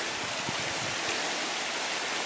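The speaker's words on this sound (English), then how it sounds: "Lots of little waterfalls here." A stream with little waterfalls in the Catskill Mountains makes a constant broadband rushing and splashing, steady and fairly close, with no talk.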